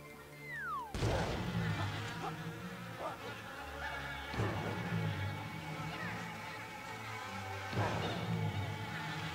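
Bees buzz in the video game Yooka-Laylee, a near insect drone running under game music with sharp hits and impacts recurring every few seconds.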